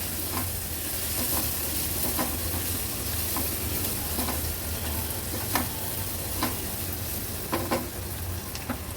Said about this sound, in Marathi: आता हळद आणि मसाला तेलावर छान परतून घ्यायचा आहे